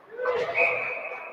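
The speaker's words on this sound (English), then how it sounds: "And a whistle." A referee's whistle at a junior varsity ice hockey game, one sustained shrill blast over crowd and rink ambience, with a commentator's voice talking over it.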